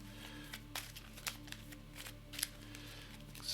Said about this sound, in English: so I'm going to shuffle it up